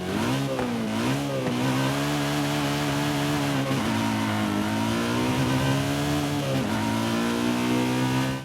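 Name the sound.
BMW M3 GTS engine revving in video game Forza Horizon 5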